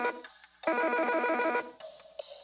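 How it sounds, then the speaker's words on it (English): A short melodic phone ringtone on a TV game show plays clearly for about a second, with faint fragments of tune before and after it. "Now, check out this ringtone."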